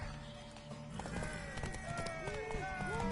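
Rapid hoofbeats of galloping horses clatter up close in the video game The Witcher 3: Wild Hunt, with a whinny and overlapping voices shouting over the action.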